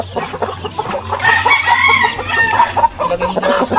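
Chickens and young chicks clucking and peeping close by in a coop. The sound is loud and continuous, a busy overlapping chorus of calls with no speech.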